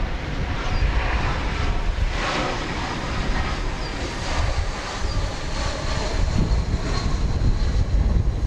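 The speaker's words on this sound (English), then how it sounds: "It's an Airbus A320." A United Airlines Airbus A320 arriving at DFW Airport roars steadily and loud, close by with wind buffeting the microphone, no talking.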